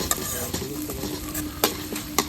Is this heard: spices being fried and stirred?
yes